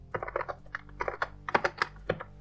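Code typed on a computer keyboard, a rapid irregular run of close, crisp key clicks in short bursts, heard alone without speech.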